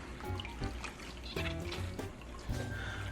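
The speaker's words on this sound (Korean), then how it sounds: "이런 소창에다가 오이지 이제 꼭 물기를 짜겠습니다" Water squeezed out of pickled cucumbers (oiji) wrapped in a cotton cloth, trickling and dribbling in close, uneven bursts with a steady wet background and no talk.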